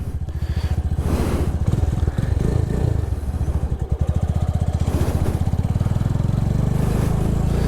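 A motorcycle engine idles with a throbbing, loud pulse up close, then rises as the rider gives it gas during a basic rider training session on a beach, the note climbing and steadying near the end.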